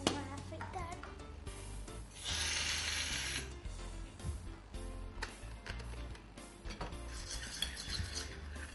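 A slime mixture is stirred and scraped in a container close up, giving continuous rubbing, rasping sounds that surge in a loud burst before settling into uneven scraping.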